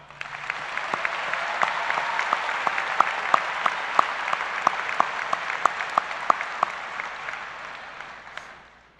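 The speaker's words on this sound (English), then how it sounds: "Please join me in giving them a round of applause." Steady applause from a high school graduation audience, with a few sharp individual claps standing out over a moderate wash of clapping that fades gently at the end.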